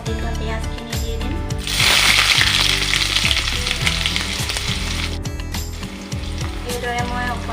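Finely chopped onion hits hot oil and bursts into loud crackling sizzle, with stirring scrapes and a steady frying hiss close up, while background music plays throughout.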